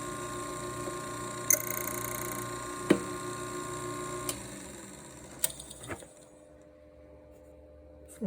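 A Framon FRA-2 code cutting machine cuts a key, producing a faint steady mechanical whir with a few sharp clicks and taps before the motor winds down to quiet.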